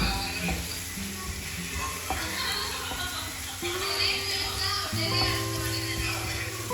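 Onions and tomatoes sautéing in a pan with a continuous crackling sizzle, broken by occasional clinks and stirring scrapes, close and steady, with a faint voice in the background.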